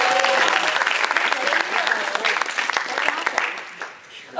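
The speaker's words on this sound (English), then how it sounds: "Let's give him a round of applause." Convention audience applauding at a Supercon 2014 Q&A panel, a dense burst of clapping from a large crowd that stays loud, then thins and fades near the end, with some voices mixed in.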